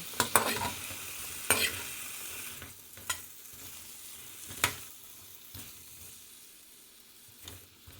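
Spiced potato curry stirred in a pan for shop-style aloo chorchori, a spoon scraping in several sharp strokes over a low steady sizzle, close and alone.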